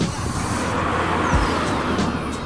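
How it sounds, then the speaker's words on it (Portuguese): Honda Jazz with a petrol VTEC engine under way: a steady, fairly loud engine and road drone from inside the car, with no talking. "Ele é o típico motor VTEC da Honda."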